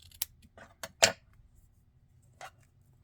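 Scissors snip through a small plastic bread tab in a few short, crisp clicks, loud and close, with a quieter final snip after a pause.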